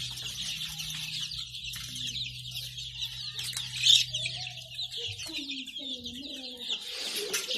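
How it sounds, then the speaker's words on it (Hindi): Baby chicks moving about on a poultry farm, a dense chorus of high peeping chirps throughout, with a few lower clucking calls and a low steady hum in the background. "फिर रहे हैं चूज़े।"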